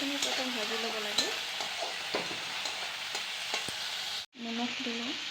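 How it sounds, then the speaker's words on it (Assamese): Fish roe sizzles in a frying pan with a steady crackle, and a voice talks over it for most of the time. There is a brief cut near the end, then the frying and speech go on. "মাছৰ পেটাখিনি প্ৰথম ভাজি ল'ব লাগে"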